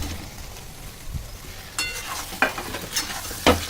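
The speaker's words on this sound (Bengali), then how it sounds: "যে চিকেনগুলো ফ্রাই করে রেখেছিলাম চিকেনগুলো ঢেলে দিয়ে দেবো" Pre-fried chicken pieces are stirred into an oil-separated spice masala in a pan for chicken Changezi, giving a low sizzle with a few sharp scraping and clattering hits toward the end.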